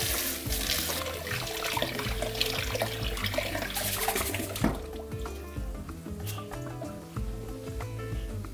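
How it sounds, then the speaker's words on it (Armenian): Rice, a mix of black and white grains, is rinsed under a running kitchen tap; water pours continuously and splashes nearby, fairly loud and steady, with slight shifts as the grains are handled and no talking. "լվանում ենք հոսող ջրի տակ"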